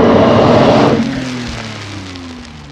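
A BMW E46 with an open differential spinning a wheel on gravel, a loud rush of grit and tire noise that fades as the rising whine of the spinning wheel tapers off, heard alone.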